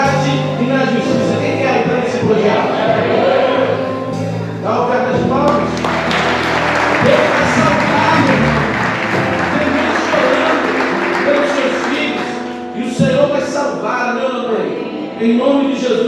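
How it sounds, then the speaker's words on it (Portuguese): A church congregation gives an offering of applause, clapping building up over music and voices, swelling in the middle and then fading back. "Dá oferta de palmas."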